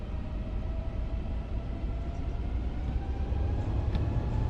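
Airbus A350 jet engines in Microsoft Flight Simulator hold a steady, loud roar with a broad low rumble and a faint rising whine, continuous and unbroken.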